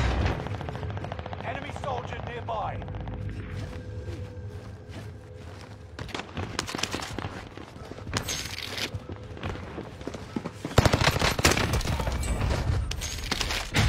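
Rapid gunfire from a first-person shooter video game: dense bursts of automatic shots that build toward the end, loud and continuous, with game effects and faint voices mixed in.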